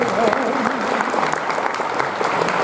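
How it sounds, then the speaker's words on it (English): Dense, steady audience applause greets Queen Quet at a 2019 festival opening, loud and close throughout the short stretch. "Please get a round of applause for Queen."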